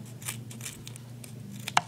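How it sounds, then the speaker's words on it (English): Scissors snip through duct tape for a duct tape change purse, several soft crisp cuts in irregular rhythm over a low steady hum, ending in one sharp louder snip. "take your scissors and cut it like a little bag"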